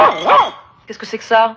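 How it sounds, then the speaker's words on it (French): A dog barks close by in a few quick yaps after a voice, with speech overlapping the start. "C'est mon chien."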